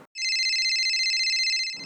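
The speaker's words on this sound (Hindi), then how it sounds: "फोन आ गया, लगता है उसी का है।" An electronic phone ringtone trills steadily for nearly two seconds, a bright warbling tone at close range with no talk over it.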